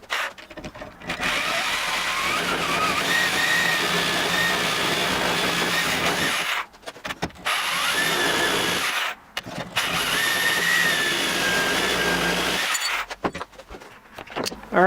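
A Sawzall cuts the fins out of a Subaru TGV, loud buzzing reciprocating bursts of several seconds each separated by short pauses, with metallic rattling throughout.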